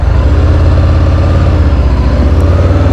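A 2023 Harley-Davidson Fat Bob 114 engine chugs loudly and close with a heavy, uneven low-frequency throb, sounding labored at low revs, steady for a few seconds with no talk.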